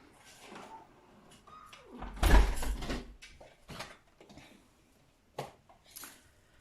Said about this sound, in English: I think I need to close the door